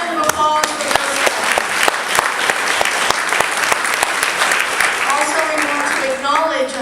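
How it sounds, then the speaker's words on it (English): Loud, sustained applause from an audience at a high school stage event, dense clapping filling the whole stretch, with voices and cheers mixed in and a few brief tonal sounds near the start and end. "So big round of applause for those guys."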